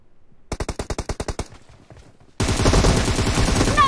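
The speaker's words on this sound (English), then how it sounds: "Take the machine gun." Machine gun fire in the battle royale game PUBG Mobile, a loud close burst of about ten rapid evenly spaced shots, a brief lull, then a dense sustained volley of automatic fire.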